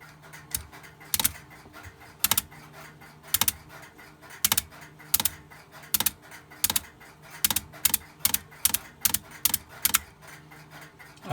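A Western Electric card dialer mechanism runs with a string of crisp mechanical clicks and ratcheting ticks in irregular bursts over a low steady hum. The sound is close and there is no talk.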